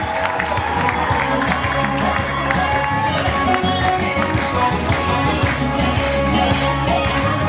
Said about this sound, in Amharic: እባካችሁ ሞቅ ያለ ጭብጨባ